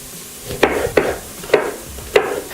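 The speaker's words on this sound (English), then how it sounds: "So let's chop these up while it's cooking." Knife chopping tomatoes on a board for caponata, four sharp knocks spaced unevenly, loud and close over a low sizzle of shallots frying in a pan.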